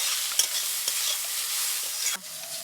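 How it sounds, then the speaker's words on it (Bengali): Wild mushrooms frying in oil with salt and turmeric produce a dense, close sizzle with a few soft stirring knocks, then the hiss drops abruptly near the end as the pan is moved or stirred. "ছাতুটায় নুন দিচ্ছি আর হলুদ গুঁড়ো দিয়ে দিচ্ছি দিয়ে ভেজে নেব"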